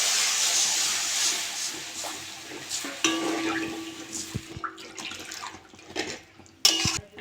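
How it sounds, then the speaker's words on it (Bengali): Water goes into a pan of cabbage curry that has been fried in oil with sugar, giving a broad hissing sizzle at first that settles into softer bubbling and clinks of utensils, close and without talk. "আমি এবার জল দিয়ে দেবো।"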